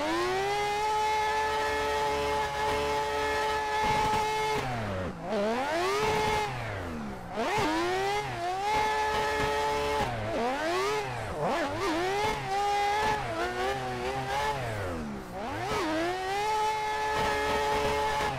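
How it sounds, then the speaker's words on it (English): Mazda RX8 rotary engine in the Assetto Corsa racing game at Irwindale, a loud continuous high-pitched wail that climbs and drops repeatedly through gear shifts and revving, sustained throughout with no talking. "Car is just so loud and so much fun."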